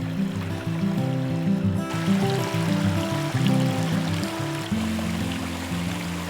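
Water flowing over rocks in a memorial waterfall in Texas, a steady close rushing and trickling with a constant low tonal hum underneath.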